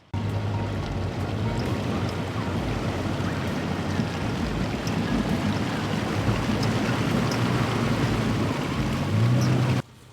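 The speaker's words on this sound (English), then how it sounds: "Let's see this river crossing." An off-road vehicle fitted with Firestone Destination tires pushes through a river crossing on an Owyhee Canyonlands trail, with a steady rush of churning water and engine rumble that swells near the end.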